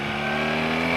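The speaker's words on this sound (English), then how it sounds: "The engine noise is completely different to how it was on the old GS." A BMW R 1300 GS Adventure motorcycle, the 2025 model, accelerates with a loud, steady, close engine drone that holds a constant tone throughout the short moment, with no voices.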